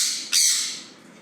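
Sun conure parrot squawking, two harsh piercing calls, a short one followed by a louder sustained screech that trails off, close and alone.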